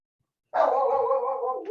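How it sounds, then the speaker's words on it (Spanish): A dog lets out one close, clear, drawn-out bark or yelp after a brief silence, holding for about a second. "Y ese es un perro pesado que tengo."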